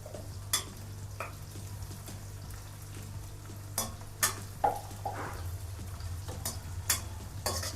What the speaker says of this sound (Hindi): प्याज लाल रंग की नहीं हुई है, इसलिए हम इसको चला रहे हैं।